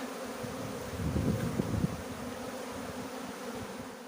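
A honeybee swarm at an apiary, settled on an apple tree, drones in a dense low hum with faint outdoor ambience. The buzzing swells briefly in the middle, then settles back to a steady murmur.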